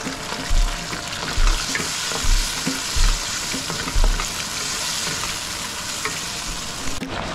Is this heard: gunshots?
no